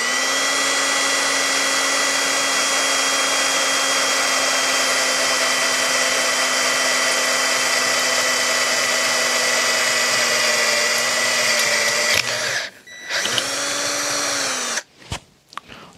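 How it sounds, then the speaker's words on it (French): A Ryobi RPD18 cordless drill fitted with a 5 mm bit bores into metal at low speed, a loud, steady motor whine that holds for a long stretch, then stops, restarts briefly and cuts off again with clunks. "pour ce qui est du perçage du métal, donc là j'ai un forêt de 5 mm de diamètre"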